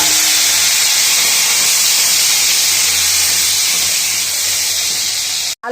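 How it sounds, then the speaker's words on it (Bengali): Boiled potatoes fry in a pan, giving a loud, close, continuous hissing sizzle that holds steady and then cuts out abruptly just before the end. "এবার আমি আলুগুলোকেও ভেজে নেব"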